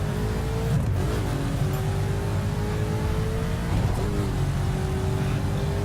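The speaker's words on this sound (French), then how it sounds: "on a bien évidemment un pot d'échappement absolument radieux. Petit V8 qui fait plaisir." Koenigsegg Agera R with its V8 engine and exhaust while driving, a steady loud engine drone with shifting revs and a brief rising note, close and continuous with no talk.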